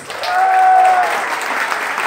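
Audience applause for a couple in a contest show, a brief burst of dense clapping with a held whistle or shout over the start, then settling into steady claps.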